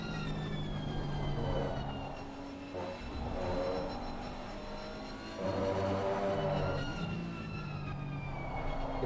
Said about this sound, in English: Get to hear this nice Nissan engine squeal with that high-pitched, along with the transmission and everything